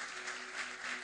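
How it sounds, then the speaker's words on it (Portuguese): A church congregation claps in a brief, dense wash of applause, distant and fairly faint, with no voices over it. "Você tem que aplaudir ao Senhor por isso."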